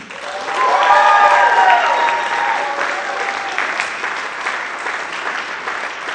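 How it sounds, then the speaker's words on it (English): Loud, dense applause from a theater-night audience honoring a teacher, swelling in the first seconds and then holding steady, with cheering voices mixed into the clapping. "We give him a big hand."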